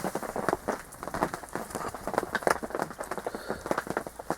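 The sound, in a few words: heavy rain falling at a lake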